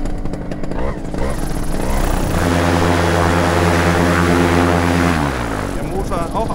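A small paramotor propeller engine drones loudly and steadily nearby, its pitch rising as it revs up, then easing back down, with speech mixed in.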